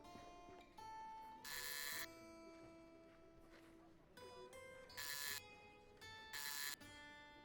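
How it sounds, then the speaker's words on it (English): Door buzzer in a video game, pressed at an abandoned building: bright harsh electric buzzes in several bursts of about half a second each, clearly loud over a faint tonal hum of background music, no speech. "A buzzer."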